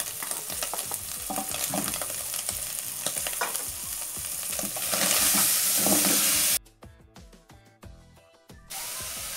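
Chopped onion for beef stroganoff fries in a pan with a loud, steady sizzle that cuts out abruptly near the end, leaving quieter crackling and clatter before the hiss returns.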